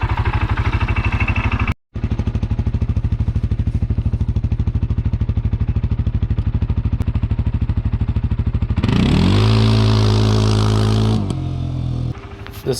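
Can-Am CForce 600T ATV engine revving hard in low gear with all-wheel drive engaged, a close, steady pulsing drone that cuts out briefly near the start, then climbs to a louder, higher whine before dropping back.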